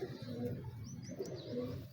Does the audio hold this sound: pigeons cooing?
yes